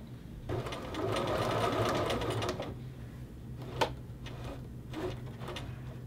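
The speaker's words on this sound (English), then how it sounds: "I continue to sew towards the tip here." A sewing machine running a reinforcement stitch on a men's shirt collar whirs for about two seconds nearby, then falls to a quieter hum with a few short clicks and taps.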